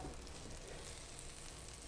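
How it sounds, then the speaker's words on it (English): Butter sizzles and fries on medium heat in a hot cast iron skillet, a dense, steady crackling hiss close up with no voices. "The sizzling is intense and it comes fast."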